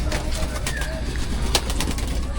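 Pet pigeons bathing in water on a hot summer day, with soft splashing, fluttering and a few brief coos close by, while someone talks quietly in the background.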